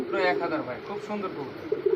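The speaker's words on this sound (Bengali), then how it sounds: "দেখেন নিউ অডাল কবুতর" A young pigeon gives a brief, close cooing call at a pigeon sale, with people talking alongside.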